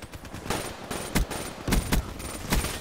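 An M8 rifle fires in a video game in several rapid bursts, each a cluster of sharp cracks. The bursts are spaced out over a couple of seconds and sound close and loud.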